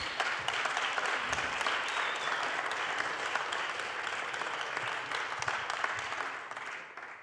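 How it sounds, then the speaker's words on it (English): Audience at an open government summit in Paris applauds a hackathon team with steady, fairly even clapping that holds for several seconds before tapering off at the end. "So big applause."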